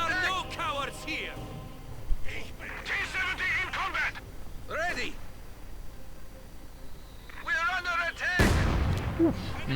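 Artillery and gunfire in a Company of Heroes 1v1 match, with scattered blasts and shots under a commentator's continuous talk, and a heavy explosion near the end.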